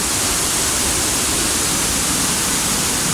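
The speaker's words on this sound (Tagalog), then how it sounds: "Lakas ng falls." Powerful waterfall in Kabankalan City, Philippines, roaring as a steady, dense broadband rush of falling water, loud and close, with no letup across the whole stretch.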